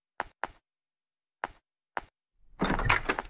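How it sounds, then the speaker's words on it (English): A door opening inside a horror video game: four sharp isolated knocks or clicks spaced apart, then a louder, dense creaking burst near the end, with no one talking. "I keep forgetting the door opens like that"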